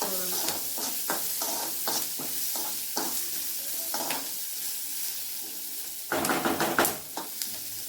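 Chopped onions with curry leaves sauté in a pan with a continuous hissing sizzle, broken by a run of rhythmic spatula scrapes and a louder clattering stir near the end.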